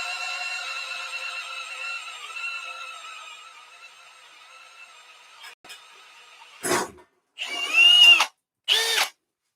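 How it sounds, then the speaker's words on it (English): A Milwaukee drill with a multi-material bit, run at an in-between speed on steel, whines steadily and fades down, then fires in three loud, close, rough bursts separated by brief silences. "So I prefer speed 2 in an in-between speed to get through steel."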